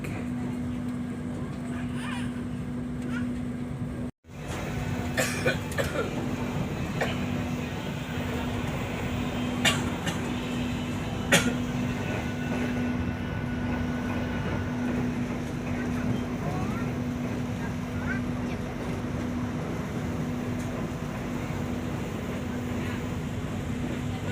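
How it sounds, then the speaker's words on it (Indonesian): Steady, continuous rumble and hum of the Direct Train passenger train running through Cikampek station in Indonesia, with a sustained low drone, a brief dropout early on, and voices faintly mixed in. "perjalanan aku naik kereta api Direct Train telah melintas di stasiun Cikampek"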